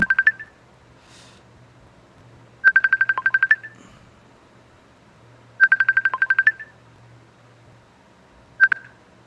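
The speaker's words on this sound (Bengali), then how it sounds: "আমার একটা কল আসছে" A phone rings with short bursts of rapid electronic beeps, repeating every few seconds in a quiet room.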